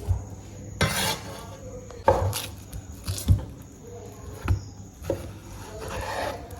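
Plantain being cut into pieces for kelewele, with about half a dozen irregular knife knocks and clatters against a board, close and fairly loud between quieter pauses.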